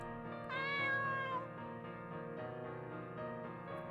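A cat in the video game Seraphic Blue lets out a drawn-out meow, clear and alone over a quiet backdrop of soft game music.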